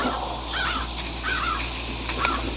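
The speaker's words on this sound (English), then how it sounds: "There are crows here. Crows." Crows caw in the outdoor grounds area of the Roblox horror game Doors, three harsh calls spaced about every second over a steady low ambient hum, moderately loud with no talking.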